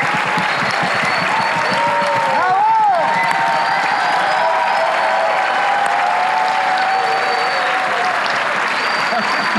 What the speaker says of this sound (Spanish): Prefiero abrir con un fuerte aplauso para la productora de la película, Diana Freire.